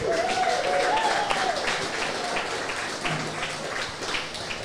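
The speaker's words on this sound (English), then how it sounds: "Can we have another round of applause for Steve Ella?" Crowd applause at a live rugby league pregame show held in a venue, with scattered clapping under a brief voice at the start, settling into steady, fading claps.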